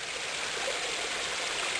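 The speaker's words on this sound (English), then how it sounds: "there's the creek down here, and you can look up there how the water just falls down" Creek water streams steadily and falls down a wooded hillside below rock walls, a close, continuous broadband rush with no voices.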